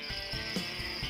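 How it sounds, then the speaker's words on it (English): Crickets chirp at a tarantula spider farm, a thin high-pitched trill running steadily and softly in the background with faint low rumbles, no voices. "That sound is crickets."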